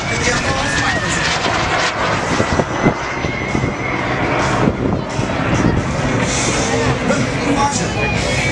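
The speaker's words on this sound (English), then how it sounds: "Here comes Justin slicing through the skies over Oklahoma City, giving you a good look at the FLS Microjet" An FLS Microjet roars through the sky during an air show over Oklahoma City, its continuous jet whoosh loud and close as a voice talks over it.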